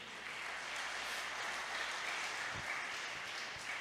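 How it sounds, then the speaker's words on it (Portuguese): A church congregation applauding steadily for several seconds, a dense wash of clapping at moderate volume with a few low thumps near the end. "Vamos aplaudir ao Senhor por isso?"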